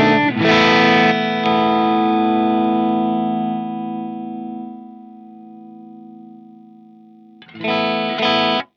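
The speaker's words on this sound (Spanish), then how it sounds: "tenés una linda rotura valvular" Electric guitar played through a KSR Amps Eros Boost pedal with natural valve-amp breakup: a loud strummed chord rings out and sustains for several seconds before fading, then another sharp strum cuts in at the end.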